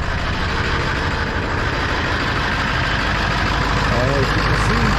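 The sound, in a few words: 2000 Ford F-250 truck engine idling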